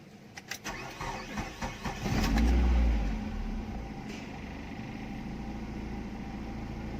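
A Mazda Familia 323 engine cranks with a few quick starter bursts, catches with a loud roar, then settles into a steady idle, close and alone.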